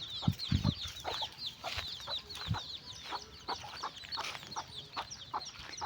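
Several chickens cluck and chatter continuously nearby, with soft overlapping calls and a few lower thumps, outdoors with no talking.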